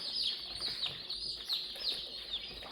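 Many Cornish cross meat chicks peep and chirp steadily in their pens, a dense, close chorus of high calls with no talking.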